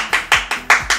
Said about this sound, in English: A round of applause for this one